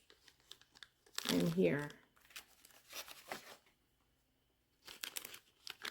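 A plastic bag from a DNA saliva test kit is torn and crinkled open in one short, close burst, with a person talking before and after.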